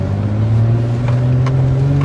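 A small rear-wheel-drive SUV accelerating on a road, its engine a steady, loud low drone that rises slightly in pitch, heard from inside the cabin with no talk.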